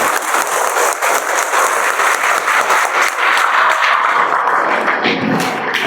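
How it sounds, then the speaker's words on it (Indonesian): Audience at an Isra Mi'raj religious talk breaking into steady applause, many hands clapping together evenly for several seconds before it starts to thin out. "Tepuk tangan untuk kita semua."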